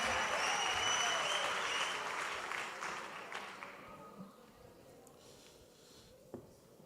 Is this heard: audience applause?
yes